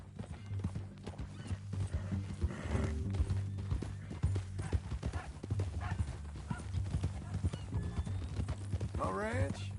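Horse hooves clip-clopping steadily at a walk in Red Dead Redemption 2, with an occasional whinny, heard under ongoing conversation and a low background drone.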